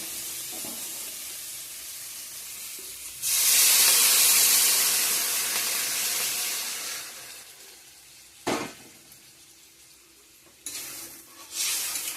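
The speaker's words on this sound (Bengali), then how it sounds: "ভালো করে কষিয়ে নিই আমার আলু পনিরগুলো ভাজা ভাজা হয়ে গেছে মশলার সঙ্গে" Potatoes and paneer sauté in spices with a sudden loud hiss that lingers for several seconds, then fades to a low sizzle broken by a few sharp stirring scrapes, close by and with no talking.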